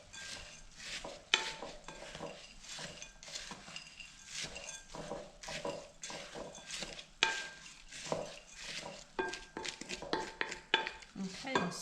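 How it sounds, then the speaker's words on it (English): Spoon stirring homemade granola oats in a bowl with maple syrup and coconut oil, giving repeated scraping and clinking strokes against the dish in a steady, busy rhythm, fairly quiet and close, with no talk. "you're just trying to get all the dried bits coated with your maple syrup and coconut oil mixture"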